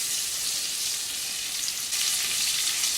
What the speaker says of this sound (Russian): пока жарится, подрумянится с одной стороны.